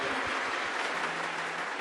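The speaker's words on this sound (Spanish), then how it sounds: "lo recibimos con fuerte aplauso para el Señor Jesucristo" A church congregation at a Pentecostal service applauds as a women's choir is welcomed, a dense, continuous wash of clapping heard from some distance, steady and unbroken for its short length.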